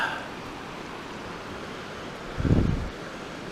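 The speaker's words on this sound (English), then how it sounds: "you can see where the water's coming over the rock, the riprap that they put in, creating a little waterfall" Water pouring over riprap rocks in a small waterfall, a steady broadband rush with a louder low surge near the end, outdoors in Alaska.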